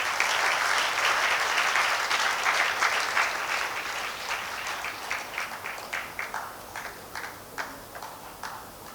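A crowd at an alumni awards ceremony applauds loudly, the clapping dense at first and then thinning into scattered claps as it fades out.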